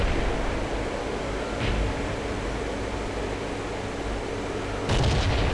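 A single heavy boom from an FV304 artillery gun in a video game rings out near the end over a steady hiss of background noise, with a fainter thump a few seconds earlier.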